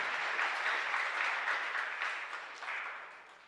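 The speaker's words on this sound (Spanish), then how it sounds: "este fuerte aplauso es el estímulo que siempre se precisa" Sustained applause from a church congregation at Mass, a dense steady clatter of many hands that gradually tapers off toward the end.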